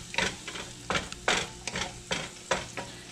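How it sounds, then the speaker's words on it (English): Dryad's saddle (pheasant back) mushrooms cook over moderate heat in a pan, a soft sizzle broken by about six scraping stirs spaced roughly half a second apart, close and clear with no voices. "I'm going to go ahead and drop them in and let them start sweating down."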